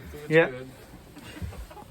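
Chickens in a farm coop at sunrise give one loud, close burst of clucking, then fainter scattered calls, under casual talk from a person nearby.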